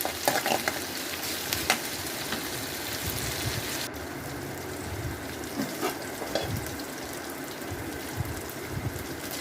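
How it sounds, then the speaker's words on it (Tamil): Two large onions with ginger garlic paste sauté in a pan for brinjal gravy. A soft, continuous sizzle sits under faint scraping stirs, fairly quiet and steady, with no one talking. "அந்த 2 பெரிய வெங்காயம் அதை எடுத்து போட்டுட்டு அது கூடயே ஜிஞ்சர் கார்லிக் பேஸ்ட்டும் போட்டு நல்லா வதக்குங்க"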